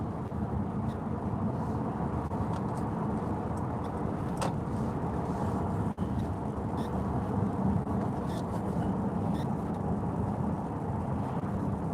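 A Mercedes CLA 350 4Matic overtakes a truck on the road, heard as a steady, even rumble of engine, tyre and road noise from inside the car, with a brief dip partway through.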